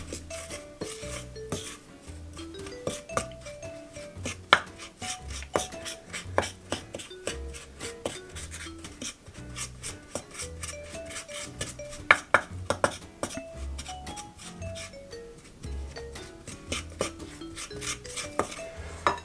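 A spoon stirs chopped ginger in a bowl to coat it, giving repeated clinking and scraping strokes against the bowl in an uneven rhythm, close and fairly loud with no voices.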